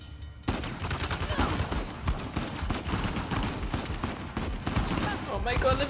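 Gunfire in Uncharted: The Lost Legacy, dense loud bursts of rapid shots and automatic fire that start abruptly after a brief quiet moment and continue nearly nonstop, with faint voices mixed in.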